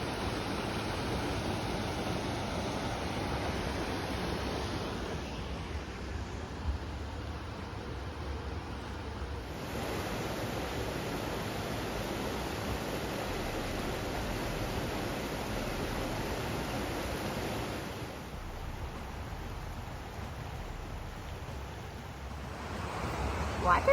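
Steady broadband rush of falling water at the waterfalls of Rocky Gorge in White Mountain National Forest, continuous and fairly loud, with slight shifts in intensity as the flow or position changes, no voices.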